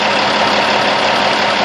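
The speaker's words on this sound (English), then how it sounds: "This engine is not surging, so it is a good running engine." A car engine idles steadily and smoothly without surging, a loud, continuous even drone close by.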